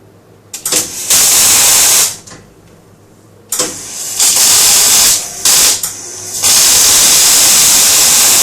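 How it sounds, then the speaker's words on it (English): Welding a part for a BMW E39 electric conversion, with loud bursts of harsh buzzing crackle separated by short pauses, three main runs of the torch close up and alone, no speech. "Going to go ahead and weld that up."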